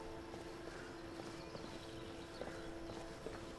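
Horses' hooves clip-clop at a steady walking pace in Skyrim, a series of soft, evenly spaced knocks over a constant background hum, moderately near and fairly quiet.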